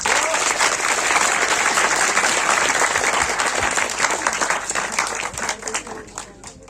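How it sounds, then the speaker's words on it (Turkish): An audience applauds poets at a folk minstrel contest in Erbaa, a thick, sustained burst of clapping from a large crowd that holds steady, then thins slightly toward the end. "ozanlarımıza tekrar güçlü bir alkış alalım lütfen"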